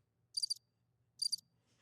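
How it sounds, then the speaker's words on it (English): Crickets chirp in two short, bright trills separated by a pause, faint and isolated against near silence. "All they hear is crickets."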